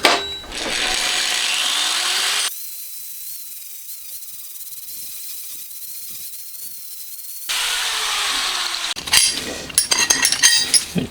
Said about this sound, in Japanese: じゃあ、ここだけグラインダーでパーッと削っちゃいます。